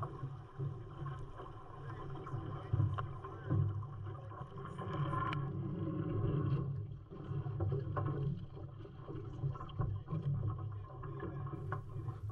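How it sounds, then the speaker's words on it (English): Small boat in small waves on San Francisco Bay being pulled upright after a capsize, with water sloshing and hull knocks under steady wind noise, moderately close and continuous. "now it's time to pull the boat upright"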